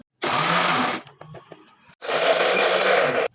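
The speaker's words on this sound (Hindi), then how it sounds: "अब इनको मैं ग्राइंड कर लूँगी।" A kitchen grinder blends lemon, vinegar, oil, garlic, onion and spices for a mayonnaise-based white sauce, running in two loud, close bursts with a short quieter pause between them.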